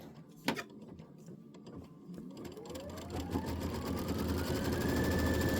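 A sewing machine stitches a pinwheel quilt block, starting with a click, then running in a fast steady whir that rises in pitch and grows louder as it speeds up.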